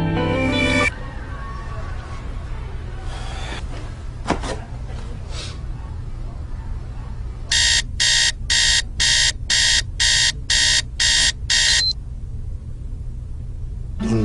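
Alarm clock going off at dawn with a run of loud, sharp beeps in quick even bursts, about ten in a row, after some quiet bedroom rustling and thumps.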